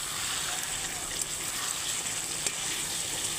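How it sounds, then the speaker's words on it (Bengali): Chicken kurma sautés in oil after a pinch of garam masala powder goes in, with a constant close sizzle and faint stirring scrapes. "এখন আমি কষতে কষতেই, আর এই দেখুন এখন আমি গরম মশলার পাউডার একটু দিয়ে দিচ্ছি।"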